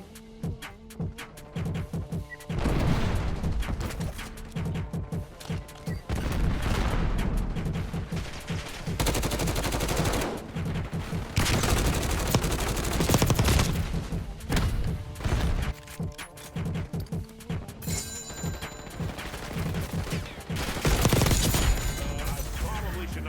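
Gunfire rattles in the shooter game Black Ops 6 with a Grau and Swat 556 loadout: repeated bursts and sustained automatic fire with heavy thumps, dense and loud throughout, with game voice announcements in places.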